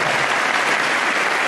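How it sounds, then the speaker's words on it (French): A church congregation applauding together in a dense, steady wash of clapping that stays loud and even throughout, with no voices standing out. "un grand applaudissement pour ces frères et sœurs"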